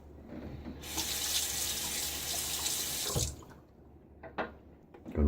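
Water runs steadily from a tap for a couple of seconds as a razor is rinsed after a wet shave, then cuts off, leaving a few faint splashes and knocks in a quiet bathroom.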